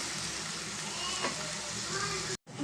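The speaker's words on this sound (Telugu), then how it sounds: "ఇప్పుడు ఇదే ఆయిల్లో మనం కట్ చేసుకున్న ఆనియన్స్ వేసుకున్నామండి ఇవి కూడా మంచి కలర్లో మంచి గోల్డ్ కలర్లో వచ్చేదాకా మనం మంచిగా ఫ్రై ఉంటాం" Sliced onions frying in oil in a pan for a chicken egg curry, a steady close sizzle and crackle that breaks off briefly near the end and then resumes.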